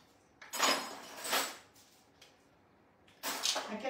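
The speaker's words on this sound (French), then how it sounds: "Je vais même vous mettre une jolie petite cuillère" A small spoon set down among dishes, giving a few short clinks and clatters of metal on crockery in two separate bursts, close by and fairly quiet.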